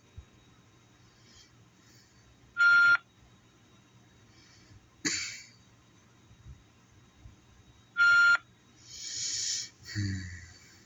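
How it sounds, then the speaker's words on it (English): Two bursts of steady electronic telephone beeping, each lasting about half a second with a pure high tone, separated by quiet stretches with faint rustling and a short hiss. "I can't take the beeping right now."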